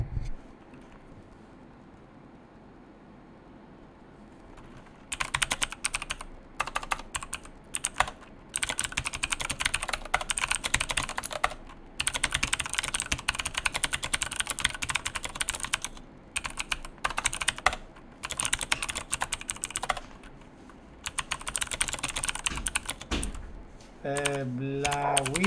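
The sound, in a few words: typing on a computer keyboard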